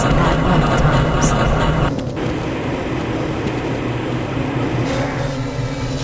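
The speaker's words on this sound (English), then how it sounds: "This train is inbound from the Area 8 topside dormitories to the Central Transit Hub in Area 9." A Black Mesa tram train in the Half-Life video game rumbles along its track with a steady, dense mechanical hum and rattle, loud and continuous throughout.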